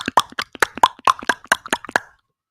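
A voice imitates tongue clicking, a quick run of about a dozen sharp, loud pops in an uneven rhythm, close up and then stopping abruptly.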